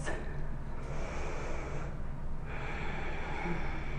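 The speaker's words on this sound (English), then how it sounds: "tune into that breathing in and out through the nose" Slow yoga breathing drawn in and out through the nose, a soft continuous airy rush near the microphone with one gentle shift midway, no talking.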